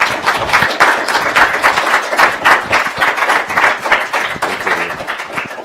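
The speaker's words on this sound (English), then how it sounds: "a round of applause" A crowd applauding, dense rapid clapping that holds steady for several seconds before thinning slightly.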